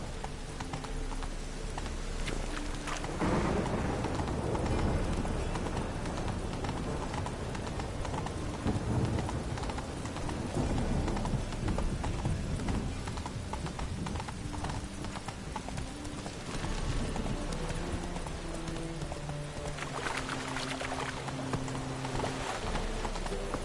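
Roach, Geralt's horse in The Witcher 3 on PS4, galloping with a steady close clip-clop of hooves over rain and distant thunder, the hoofbeats running loud and unbroken throughout.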